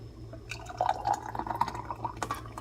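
Carolina Reaper pepper jelly poured from a pot into a glass jar, a thick liquid trickle with drips and small splashes over a low steady hum, close and moderately quiet.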